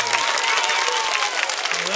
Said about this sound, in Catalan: aquest fort aplaudiment i vinga!